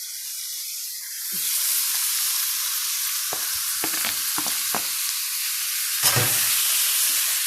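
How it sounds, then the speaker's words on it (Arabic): Colored bell peppers and tomatoes hit a hot pan with browning meat, and a bright sizzle swells and holds steady while spatula scrapes and knocks tap out an irregular stirring rhythm nearby. "واقلبها لغايه ما ايه تستوي."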